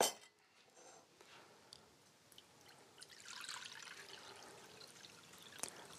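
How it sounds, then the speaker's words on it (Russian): Water poured onto rice in a cooking pot, a quiet, thin trickle that swells briefly into a soft stream midway and then tapers off, with a faint tap near the end. "И наливаю воды полтора объема от объема риса."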